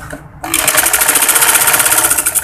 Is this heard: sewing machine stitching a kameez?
yes